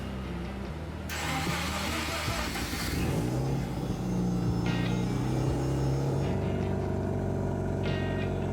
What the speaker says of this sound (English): I tried to press the gas pedal smoothly till the very red line, to hear the sound of the muffler in all engine rotation ranges.